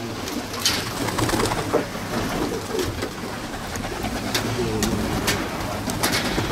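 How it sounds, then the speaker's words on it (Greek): A flock of pigeons at a pigeon club in Attica, Greece, coos continuously nearby, low throaty calls overlapping, with occasional wing flutters and light clicks throughout. "Από όλε τι πάντε έρχονται περιστέρια."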